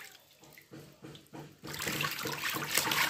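Hot bath water poured in a domestic setting, heard first as a few separate splashes and then as a steady, loud rushing pour close by, with no voices.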